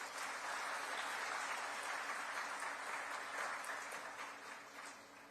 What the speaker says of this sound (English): let's cheer up and applaud all the great achievers of this evening